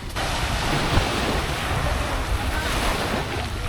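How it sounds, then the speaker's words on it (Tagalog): Strong ocean waves churn continuously on a windy sea off the Philippines heading toward Bohol, a loud, steady wash of surf and wind noise from a boat with no let-up. "Lakas ng alon"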